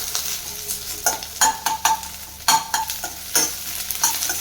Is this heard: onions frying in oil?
yes